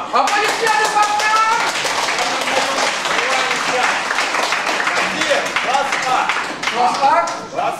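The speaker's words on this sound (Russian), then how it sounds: "Аплодисменты, папка!" Spectators at an amateur wrestling bout between two Molodechno wrestlers clap loudly and continuously for several seconds, a dense nearby patter with voices shouting and talking over it.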